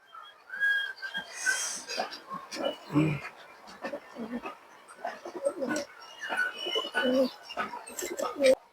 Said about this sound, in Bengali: কবুতরটা মাসাল্লাহ খুব সুন্দর একটা কবুতর